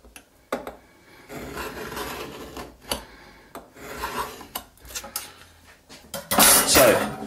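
A scribe scratches a line along a rule on a workpiece while marking out a sliding bevel, a series of close raspy scraping strokes with short clicks between them, ending in a louder rasp.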